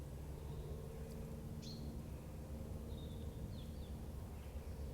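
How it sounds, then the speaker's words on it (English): Faint, sparse bird chirps and short whistles ring out over a low steady hum of distant background noise; no talking. "I can hear the birds."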